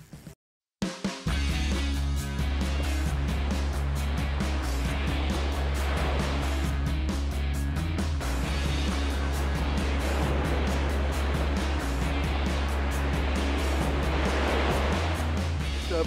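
Ocean surf rolling onto a beach in the flats near Playa del Carmen, Mexico, a steady loud roar of breaking waves and wash that fills the whole stretch after a brief dropout at the start.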